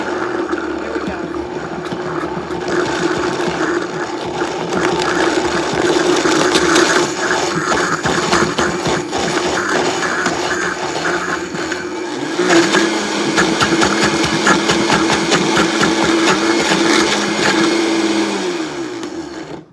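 A blender making a green smoothie with coconut water whirs loudly and continuously, its pitch shifting midway as it speeds up, with no talking over it.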